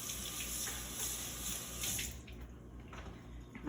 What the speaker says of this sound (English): Put that in the sink. Rinse my hands.